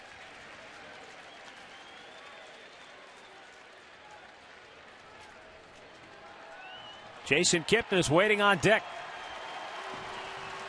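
Baseball crowd at Progressive Field, Cleveland, a steady murmur of spectators under an announcer's talk, then a short loud burst of cheering and clapping that holds a level roar afterward.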